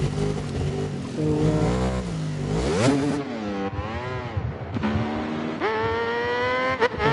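A Ducati racing motorcycle on the Kyalami track screams loudly as it accelerates and shifts up through the gears, its engine pitch climbing again and again, close by and alone.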